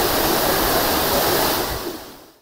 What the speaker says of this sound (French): Nous voilà arrivés à la cascade de Séant.